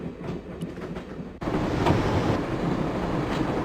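A train in the Broken Sword video game rumbles steadily along the rails, a dense continuous roar that swells suddenly louder partway through and holds, close and without talk.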